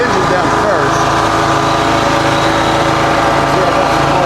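A sawmill's engine runs loud and close, a steady mechanical drone that fills the whole stretch without pause.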